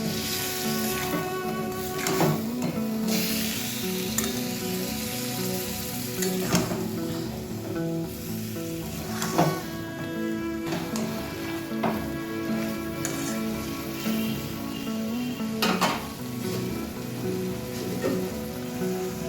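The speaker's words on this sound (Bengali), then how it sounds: "সবটাকে খুব ভালো করে মিশিয়ে নিয়ে বেশ কিছুক্ষণ আমি কষিয়ে নেব।" Chicken is sautéed with dried red chilli paste and its grinding water in a pan, with a crackling sizzle and occasional sharper scrapes and knocks of stirring throughout.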